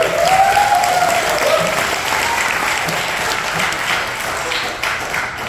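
Concert crowd at an ETSU bluegrass send-off show applauds a band member, a broad, steady wash of clapping with a brief voice or instrumental tone at the start, gradually easing in loudness.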